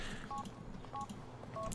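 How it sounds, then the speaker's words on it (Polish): An in-game mobile phone in GTA IV is dialed, producing three short keypad tones spaced roughly half a second apart over a low, steady game background. "Aby wybrać numer musisz wyciągnąć telefon."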